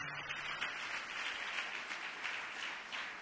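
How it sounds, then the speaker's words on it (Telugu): A church congregation applauds at a Sunday service, a steady, moderately distant wash of clapping that holds evenly for a few seconds with no voices over it. "చప్పట్లు కొట్టండి గట్టిగా."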